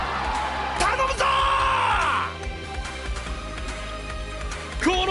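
Cheering crowd in the Granblue Fantasy "Platinum Sky" game event broadcast, a steady wash of yells and whoops under a music bed, swelling loudly early on then settling into continuous background roar.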